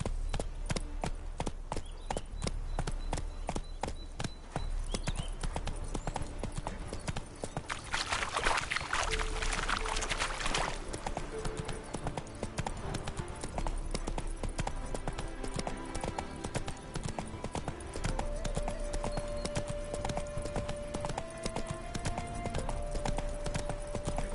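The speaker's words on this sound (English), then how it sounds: "Spooking my horse. Roach doesn't like ghosts." Horse hooves clip-clop in The Witcher 3 in a steady, evenly spaced trot that continues throughout, with a soft whoosh of movement in the middle and faint game music underneath.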